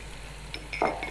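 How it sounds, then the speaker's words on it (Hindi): Ginger and garlic fry together in oil for a biryani: a soft sizzle under a few clinks and scrapes of a utensil against the pan, brief and close. "अदरक को भी हल्का सा भूनेंगे।"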